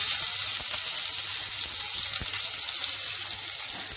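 Mustard seeds crackle in hot oil as a tempering with cumin, a pinch of asafoetida and curry leaves is made for a fresh cashew nut curry. A steady, close, loud sizzle with a few sharp pops throughout, no voices.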